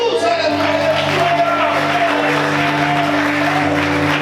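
Steady, loud applause from a church congregation during an evening sermon, blending with crowd noise and sustained music underneath, with voices mixed in throughout.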